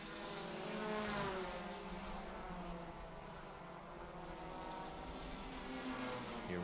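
A 1967 Datsun Roadster vintage race car at Laguna Seca, its engine a steady roar blended with other traffic on the track, moderately distant and fairly constant throughout.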